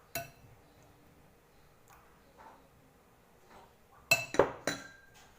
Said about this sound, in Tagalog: ihalo natin yung 2 eggs